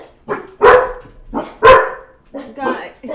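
Several dogs barking loudly and excitedly at a package delivery at the door, in sharp repeated bursts close by, with a voice talking in between.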